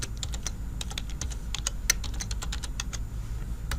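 Rapid clicking keystrokes on a computer keyboard while entering a git username and password, steady and fairly close, with a faint low hum underneath.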